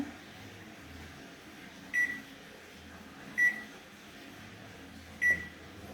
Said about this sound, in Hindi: माइक्रोवेव है।